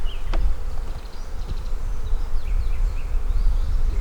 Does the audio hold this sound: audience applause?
no